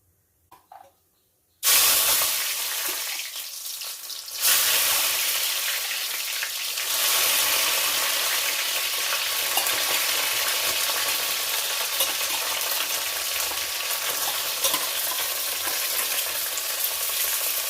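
Okra sautés in a hot pan with a steady, loud sizzle that starts abruptly after a short quiet moment and carries on unbroken, with a faint stirring texture underneath and no voices.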